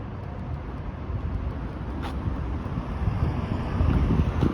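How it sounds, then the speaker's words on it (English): A city bus engine drones low and rumbling on Wilson Avenue in North York, with steady mechanical noise and wind buffeting the microphone, growing slightly louder toward the end. "This is exactly what I don't like about those buses. It makes you think the engine is going to break down."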